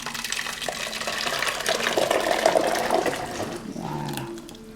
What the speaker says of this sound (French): là je vais verser dans la cocotte